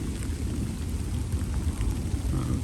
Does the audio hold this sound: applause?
no